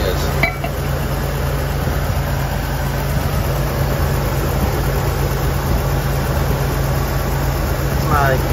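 A Toyota 4Runner engine with 255,000 miles and fresh timing work idles steadily, a smooth, even hum with a faint rattle, recorded close with little variation, while someone talks over it.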